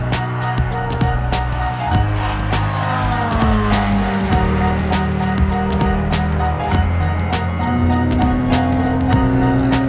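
A Porsche 919 Hybrid Evo race car accelerates hard, a loud, sustained engine whine that climbs in pitch and steps through gear changes, close and continuous throughout.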